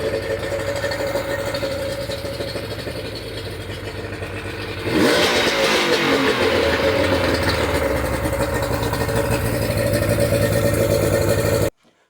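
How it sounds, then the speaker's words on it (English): Yamaha outboard engine running after use of the prime start switch, idling steadily, then rising sharply to a louder higher-pitched run about halfway through that holds until it cuts off abruptly near the end. "now you got to see what the engine actually sounds like and what happens to it when you turn it into the on position"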